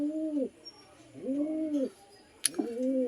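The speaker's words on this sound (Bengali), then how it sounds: "এক জোড়া কালদমা পায়রা, একটা ম্যাটরাজ, একটা হচ্ছে কালদুম।" A pair of Kaldum pigeons, a Madrasi breed kept in Murshidabad, give three soft rising-and-falling coos close by, with a brief sharp click between the last two.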